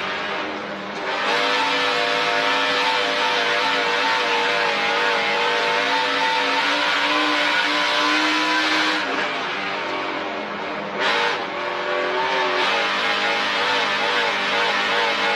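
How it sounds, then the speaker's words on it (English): A NASCAR truck at full throttle on a dirt track during practice for the 2022 Pinty's Truck Race on Dirt: a loud, sustained, close engine roar with rising and falling revs, uninterrupted and without talk. "Let's take a ride and listen to him work that throttle."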